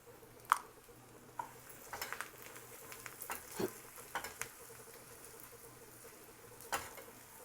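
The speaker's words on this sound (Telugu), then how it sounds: "పోపు వేగిపోయింది చూసారు కదా" Tempering spices, finished with asafoetida, sizzle softly in hot oil, a low frying hiss broken by scattered small pops and stirring clicks.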